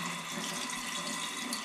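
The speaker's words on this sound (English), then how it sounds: "I'm going to throw away this soaking water." Lima bean soaking water poured away into a sink in a home kitchen, a steady close splashing stream.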